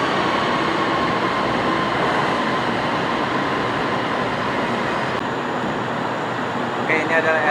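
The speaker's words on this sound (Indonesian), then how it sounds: "ini adalah LRT yang pergi ke Sentul Timur" An LRT train bound for Sentul Timur pulls into a station, giving a steady, loud broadband rumble and rail roar that holds throughout with little change.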